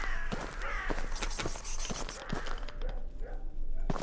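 Crows caw in the dark horror video game DarKnot among rapid clicks and footstep-like taps, all under a steady low rumble of game ambience.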